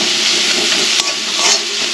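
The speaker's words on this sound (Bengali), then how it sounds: "কড়াইতে পেঁয়াজ দিয়ে দিয়েছি।" Onions sizzle steadily in a wok with a little oil, a close, loud, continuous frying hiss with a brief stir-like scrape partway through.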